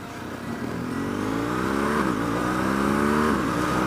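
A BMW motorcycle engine revs upward under acceleration, its pitch climbing steadily before dipping twice as the automatic gearbox shifts, then rising again, loud and close.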